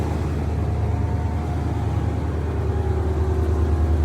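An OBS dually truck's engine idles steadily up close, cranked up to air up its compressor, giving a continuous low rumble with a faint whine throughout.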